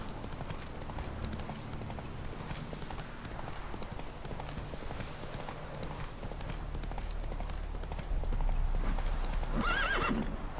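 Roach, Geralt's horse in The Witcher 3, gallops with steady clip-clop hoofbeats and then lets out a clear neigh near the end, close and prominent over in-game ambience.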